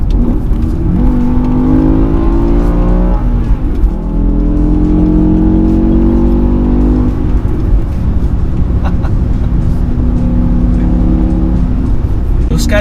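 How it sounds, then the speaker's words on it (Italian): A BMW M5 E60 with its V10 engine and stock exhaust revs and climbs in rising sweeps, loud and close, with someone talking over the engine note. "però che melodia questo 10 cilindri, e che 10 cilindri."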